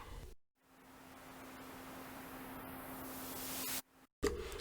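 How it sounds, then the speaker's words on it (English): A hiss of white noise with volume and EQ automation swells steadily louder over a few seconds as a riser, with a low hum beneath, then cuts off abruptly. "It's white noise with volume and EQ automation."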